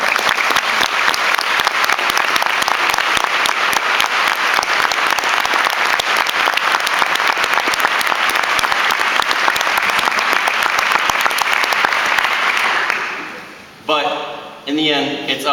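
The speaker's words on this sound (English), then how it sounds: "So put your hands together for the parents of the class of 2012." A school graduation crowd claps for the parents of the graduating class in one long, dense, loud burst of applause that fades out near the end as a voice begins speaking.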